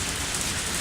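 Brief burst of steady video game rain, a continuous close hiss of falling water running like a small waterfall, with no other sounds.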